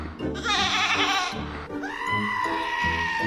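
A woman imitates a goat, giving a few nasal, wavering bleats up close, one after another with short breaks, at a lively wedding gathering.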